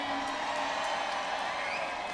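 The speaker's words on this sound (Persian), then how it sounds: "یه جیغ قشنگ به افتخارش" A large concert crowd in Istanbul screams and whoops in a continuous, dense roar, loud and sustained with no talk.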